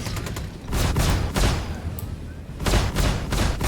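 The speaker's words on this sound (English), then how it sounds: "I like the recoil on the lasers" Laser cannons on a Kruger P-52 Merlin snub fighter in a space flight game fire in bursts, each volley a sharp punchy crack with a booming tail, repeating roughly every half second with short pauses between groups.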